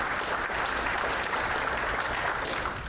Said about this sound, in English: So a round of applause, please,